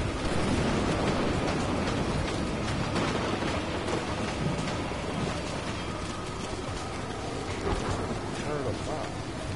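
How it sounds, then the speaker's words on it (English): Steady heavy rain from a thunderstorm in the Evil Dead video game, a dense continuous wash with low rumbling underneath, while a person talks over it throughout. "The fucking storm is on our ass."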